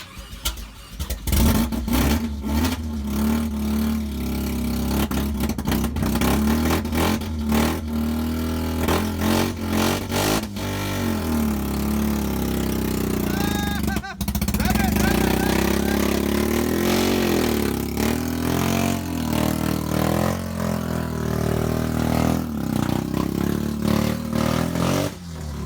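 An LS1 V8 swapped into a Nissan 240SX S13 fires up for the first time, then revs repeatedly and settles into a loud, steady, throaty idle that runs close and continuous throughout.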